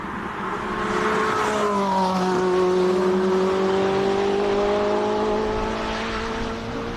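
A 2012 Ferrari 458 Speciale, naturally aspirated V8, climbs a hillclimb course with a loud, sustained engine note whose pitch glides steadily as it accelerates past, no voices present.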